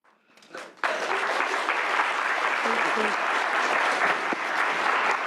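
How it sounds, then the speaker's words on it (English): An audience at a committee hearing on appropriations breaks into sustained, steady applause that swells in after a moment and keeps going, loud and even, filling the room. "I'll remind the audience there's no clapping in committee, please."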